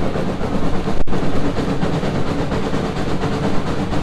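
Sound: steam locomotive chuffing on the Cass Scenic Railroad

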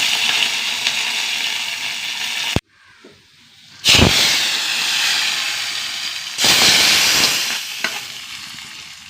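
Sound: urad dal, dried red chillies and curry leaves sizzling in oil

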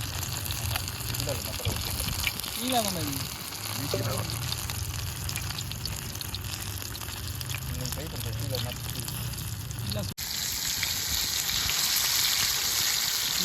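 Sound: coconut rock fish frying on a griddle

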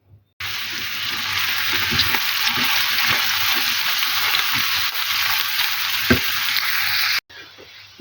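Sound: carrots frying in oil

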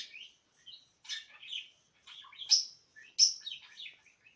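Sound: pet bird chirping

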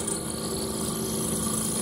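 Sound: drill boring through cast iron

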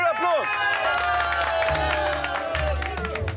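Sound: applause from the studio audience

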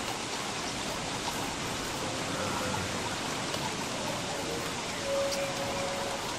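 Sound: rain in the video game Don't Starve

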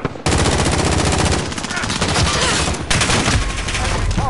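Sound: gunfire in video game Modern Warfare

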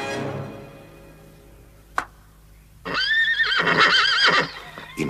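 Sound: horse neighing and hooves in a cartoon

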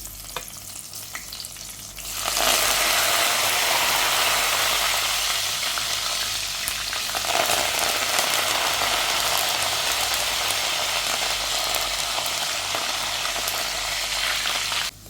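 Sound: green chillies and curry leaves frying in oil

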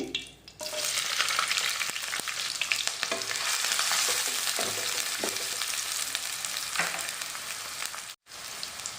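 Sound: onion and green chilies frying in oil in a pan

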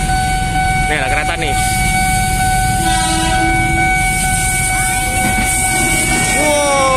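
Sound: train passing by

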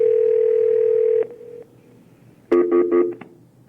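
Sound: telephone dial tone from cell phone call

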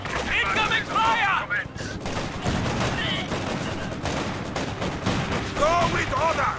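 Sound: gunfire in Company of Heroes 2 video game

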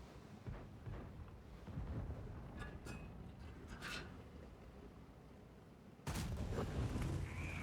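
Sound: tank cannon shot in video game

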